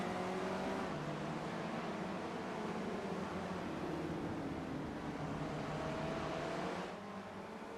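A sim race car at Okayama slides sideways through a turn, its engine droning loud and steady with gliding pitch changes as revs fall and rise, tapering slightly near the end.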